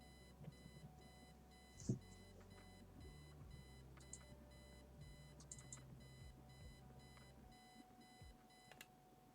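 A digital alarm clock in the point-and-click game Kathy Rain rings with steady repeating electronic beeps that run through the whole stretch, fairly faint, with no talking.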